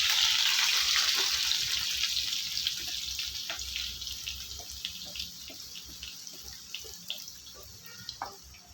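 Raw plantain pieces with fresh curry leaves frying in hot oil for a crisp wedding-style plantain fry, a steady bright sizzle that slowly settles, with scattered pops and crackles close by.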